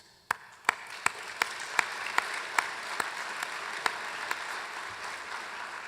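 Scattered, evenly spaced claps from a small audience at a donor tribute, each one sharp and distinct over a soft steady hiss, with no voices.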